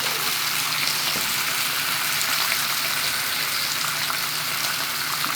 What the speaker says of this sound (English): Saturday morning smell of bacon cooking